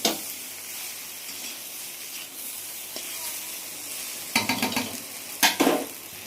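Lentil and poppy-seed fritters in raw mustard oil in a pan, a steady soft sizzle with a few louder scraping stirs toward the end, no talking.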